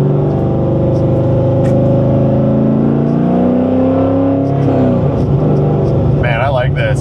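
Corvette C6 V8 engine rising and falling in pitch through a rev-matched heel-toe downshift, loud and steady from inside the car, with a brief burst of engine noise near the end as someone talks over it.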